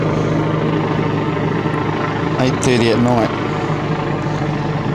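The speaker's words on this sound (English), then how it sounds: "It's a helicopter flying around." Helicopter flying overhead at night, its steady rotor and engine drone filling the background throughout, with a person talking over it.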